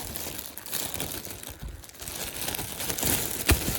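A crinkling plastic bag being handled while clearing a packed room of vintage dolls: irregular crackling and rustling bursts, close and moderately loud, with a sharper crunch near the end.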